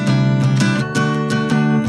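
Guitar playing a single bar of a song: bright, loud strummed chords in a quick, even rhythm of repeated strokes, heard alone and close.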